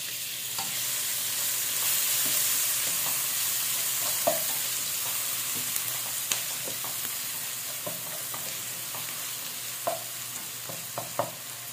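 Tomatoes stirred and sautéed in a pan, a steady broadband sizzle running throughout with scattered sharp clicks and scrapes of a utensil against the pan, close and fairly loud, no talking.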